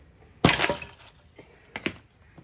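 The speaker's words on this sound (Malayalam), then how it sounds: "വിറക് ഇങ്ങനെയും പൊട്ടിച്ചെടുക്കാം." Firewood being split and broken at home, with one loud sharp crack followed by splintering, a softer knock, and a second smaller crack and snap a moment later.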